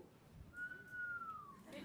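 A single long whistled note from an audience member rises slightly and slowly falls, faint and somewhat distant, with soft murmuring voices in the background at a convention panel.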